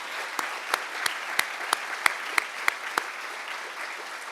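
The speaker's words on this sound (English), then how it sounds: "Please join me giving one more round of applause to our" Applause from an audience at a science medal ceremony honoring 2024 medal recipients, a steady crowd clapping with a few sharper individual claps standing out, moderately distant and sustained throughout without speech.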